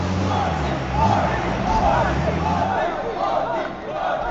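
Large arena crowd roaring and cheering at the PUBG Mobile World Cup esports event, a steady dense wall of voices and shouts, with a commentator talking over it.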